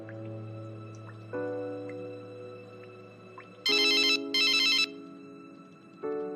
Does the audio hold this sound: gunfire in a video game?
no